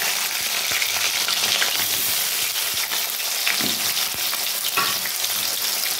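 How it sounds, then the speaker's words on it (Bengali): Potatoes frying in hot oil for a crab curry make a dense, loud, continuous sizzle close by, with occasional sharp clinks and taps of a utensil against the pan. "তেলটা অলরেডি গরম হয়ে গেছে, আর আমি এখন দিয়ে দেব আলুগুলো ভালো করে ভেজে নেব বন্ধুরা।"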